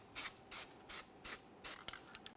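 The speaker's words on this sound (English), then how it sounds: "Now it's time to apply anti-seize to the hub mating surface." Five short, sharp hisses of anti-seize spray hit the rear wheel hub mating surface of a 2017-2024 GMC Acadia. A few faint clicks and rubs follow.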